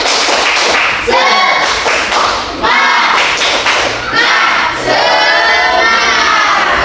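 An audience at an Ukin 2025 session claps in rhythmic spirit-clapping patterns, loud sharp bursts of hand claps in repeated groups with brief pauses between them.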